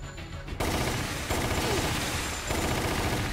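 Sustained automatic gunfire in the Resident Evil Umbrella Chronicles game, a dense continuous barrage that grows louder after a brief opening and keeps rattling with little pause.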